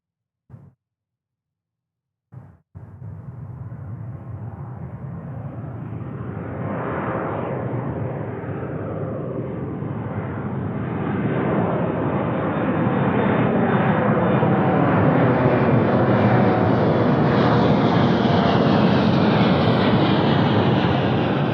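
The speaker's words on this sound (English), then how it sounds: "It is an A175 rolling down the runway." An airliner at Anchorage airport spools up and rolls down the runway, its engine roar swelling steadily from a low rumble into a loud, sustained, rising whine heard from nearby after a brief thump.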